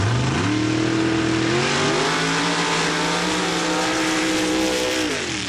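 A mud truck Jeep called Instagator 2 roars in a drag race at Laporte, Indiana. The engine revs loud and close, climbs in pitch, holds a sustained howl and then eases off near the end.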